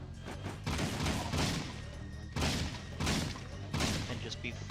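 Beam rifle shots in Jak 3 in Haven City, several bursts of rapid blasting fire at close range separated by short pauses over a faint background.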